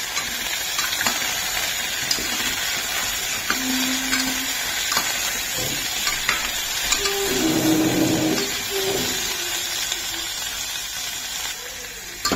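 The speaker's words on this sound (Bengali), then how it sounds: "এই ঘিয়ের মধ্যে গাজরগুলোকে ভালো করে আমি করে নেব ভেজে।" Carrots fry in ghee for carrot halwa, producing a constant broadband hiss and sizzle with a few brief tonal clinks and a louder swell of frying noise midway.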